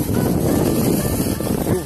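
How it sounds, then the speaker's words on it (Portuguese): Strong wind at a beach buffets the microphone in a steady, loud rumble that continues without a break for the whole short stretch. "E o vento tá ficando forte"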